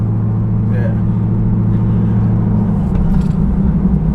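A cammed 2013 Holden VF SSV Commodore idles at the lights with a deep, loping V8 rumble, steady and close, its uneven lumpy pulse running throughout while people talk faintly nearby.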